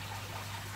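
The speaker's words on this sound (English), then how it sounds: "pour the water" Hot water from a boiled kettle trickles and pours over a cracked glass bottle, a soft steady splashing stream held close and continuous throughout, with a low hum beneath.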